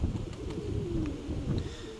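Domestic racing pigeons coo nearby in low, repeated throaty murmurs over a soft background, with a short higher note near the end.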